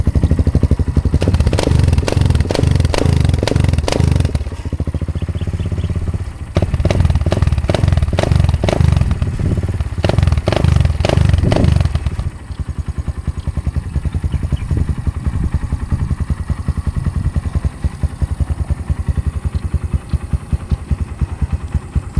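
Loud exhaust from a Kawasaki Barako II 175 motorcycle fitted with a 28mm Nibbi racing carburetor, revving in sharp shotgun-like bursts, then dropping to a rough, rapidly pulsing idle with crackling pops.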